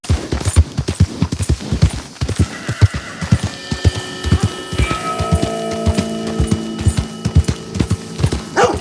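Rhythmic hoofbeats of a horse trotting in the Western game Red Dead Redemption, close and steady, with a loud whinny and neighing ringing out partway through.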